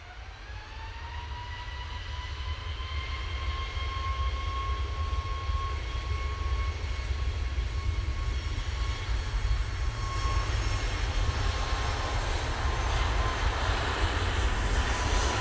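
A passenger jet arriving from Cancun on short final to runway 23R at Manchester Airport. Its engines roar continuously and loud, with a steady whine and a broad rumble that builds slightly as it nears.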